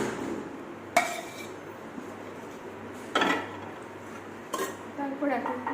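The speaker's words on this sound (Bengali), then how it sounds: "এবারে আমরা হাঁসের মাংসটিকে কড়াইয়ে দিয়ে দিব।" Raw duck meat, about a kilogram, goes into a kitchen wok with a few sharp metallic clanks and clatters spaced a couple of seconds apart over a quiet, low background hum.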